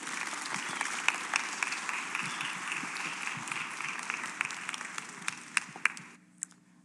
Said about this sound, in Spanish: Vamos a darle un aplauso y darle la bienvenida.